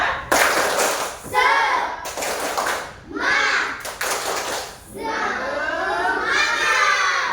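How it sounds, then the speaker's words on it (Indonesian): Class 5 primary school children perform a rhythmic spirit clap in a classroom, bursts of unison clapping and chanted voices in several sharp phrases separated by short pauses, close and loud. "Kita tepuk semangat kelas 5 dulu ya, supaya semangat dalam belajarnya sebentar sampai selesai"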